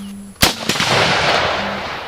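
A single loud bolt-action rifle shot fired close by, a sharp crack followed by a long rolling echo that fades slowly outdoors.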